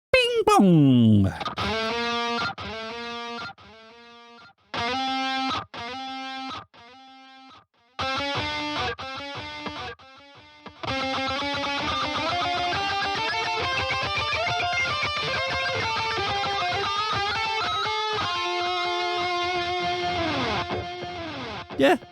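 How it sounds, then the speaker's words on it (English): Electric guitar through the Aurora DSP Rhino plugin with a ping pong delay, short chopped phrases at first, then a long sustained distorted passage with repeating echoes bouncing behind the notes, loud and close. "a classic ping pong delay"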